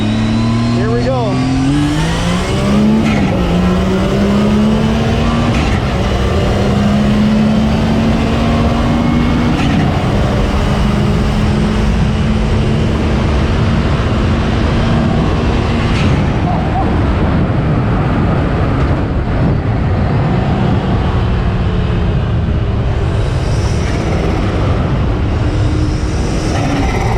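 Turbocharged Yamaha YXZ side-by-side accelerating hard, a loud close engine climbing through gears with shifting pitch and continuous drivetrain and wind roar, with people talking over it.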